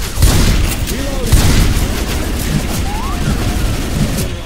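Dense, loud gunfire and booming blasts in the video game Left 4 Dead 2, rapid shots and thuds piling up continuously, with voices talking over the action.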